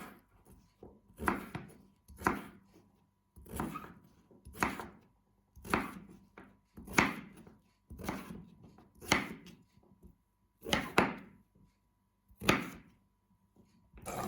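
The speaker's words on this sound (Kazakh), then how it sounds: "домалатып турап аламыз." A knife chops vegetables for a winter salad on a board, a steady series of about a dozen crisp, close thunks in rhythmic bursts with short pauses between them, no talking.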